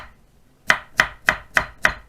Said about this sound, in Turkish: Onları da yan çevirip yine piyaz soğanda olduğu gibi uygun bir şekilde jülyen şeklinde doğrayacağız.